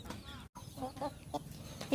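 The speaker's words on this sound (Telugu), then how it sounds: "ఇది కటక్నాథ్ కోడి చూడు" A Kadaknath hen clucks in a few short, soft bursts over steady background noise, with a brief dropout early on.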